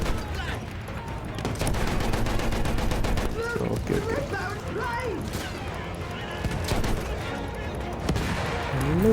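Battlefield 1 combat with steady distant gunfire and battle clatter, moderately loud, while someone talks over it throughout.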